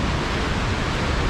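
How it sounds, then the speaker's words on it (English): The rushing East Fork of Miller River pours past in full spring runoff, a steady, loud, close wash of broadband water noise with no pauses. "we'll start off following the East Fork of Miller River. It's ripping"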